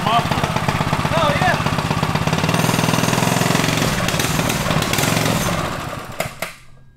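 A Rascal Lite mini bike's small engine running with its muffler fitted: a steady, loud, rapid mechanical chugging that holds for several seconds, with voices talking over it, before the engine winds down and cuts out near the end.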